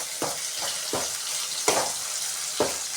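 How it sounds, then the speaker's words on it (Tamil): Coriander and curry leaves sautéing in a pan for an egg fry, a constant hissing sizzle broken by several sharp stirring scrapes at irregular intervals, close by with no voices. "கொத்தமல்லி கருவேப்பிலாம் போட்டுட்டு நல்லா நம்ம வதக்கி எடுத்துக்கலாம்"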